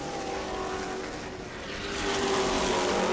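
Race cars roar around an oval track through turns three and four in the closing laps, a dense, continuous engine drone that swells louder toward the end as the pack passes.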